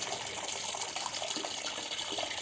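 Water is strained through a sieve, making a steady, soft rushing trickle throughout at a fairly low level, with no one talking.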